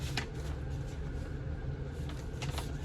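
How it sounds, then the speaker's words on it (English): A paper packing slip is folded by hand, giving a few short, crisp crinkles and creases over a constant low rumble in the background. "now my packing slip, I just fold it up,"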